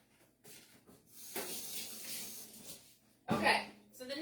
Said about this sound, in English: Let me just rinse my fingers off real quick.